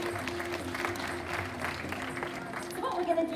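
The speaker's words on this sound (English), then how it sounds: "So big round of applause there for Akasha." A crowd at a tiger and lion show at Dreamworld applauds a tiger named Akasha, a moderate spread of clapping that continues under a voice over a loudspeaker.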